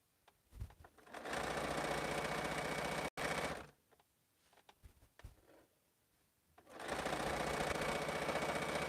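A sewing machine stitches quilt block frames in two long steady runs, loud and close, with a short pause and a quieter stretch of small handling noises between them.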